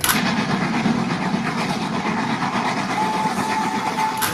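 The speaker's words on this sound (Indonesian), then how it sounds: "Wow, yang ini ada kereta api Thomas teman-teman." A toy Thomas train engine gives off a continuous, close mechanical rumble with a rhythmic chugging texture and a faint electronic tone near the end, heard alone.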